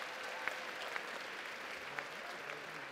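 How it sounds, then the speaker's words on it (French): Faint, distant audience applause after a group's turn at a cosplay contest, a thin steady patter with a few sharper claps standing out, no speech on top. "On les applaudit encore une fois"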